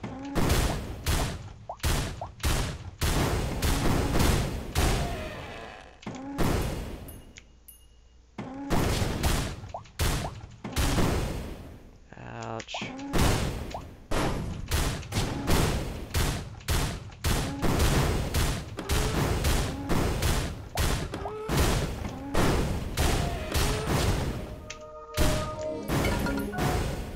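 Heavy weapon fire in the video game Risk of Rain, loud repeated shots and impacts in rapid irregular bursts with short gaps, continuing densely for nearly half a minute without talk.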